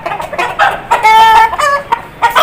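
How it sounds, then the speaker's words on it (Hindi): An aseel rooster in a cage lets out a run of loud, close clucks and drawn-out, throaty calls in uneven bursts, with brief pauses between them. "इसमें ये एक मुर्गा है"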